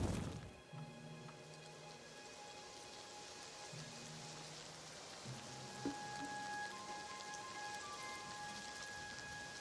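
Steady rain falls in the video game Oblivion, a continuous faint hiss with soft scattered drops and a few small knocks, low in level throughout.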